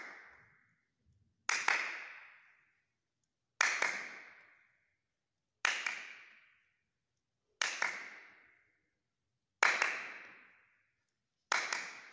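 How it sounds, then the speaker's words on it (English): A single sharp hand clap rings out in a reverberant room, repeated six times at roughly two-second intervals between ball tosses during a PE catching drill, each clap fading with a short echo into silence. "Right hand toes, clapping 3 times."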